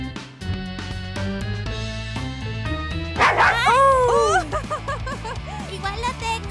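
A battery-powered toy dog from the MAD Dog board game lets out a burst of squeaky electronic yips and barks midway, among chirpy toy sounds and children playing nearby.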